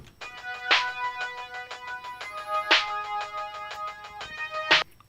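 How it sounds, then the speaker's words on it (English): A thin, tinny four-bar beat loop with bright repeating synth notes and sharp snare hits, the 808 bass missing, sounding like it plays from a tiny speaker such as a kitchen radio or smartphone. "this 4-bar loop on smaller speakers like kitchen radios or smartphones or such sound like"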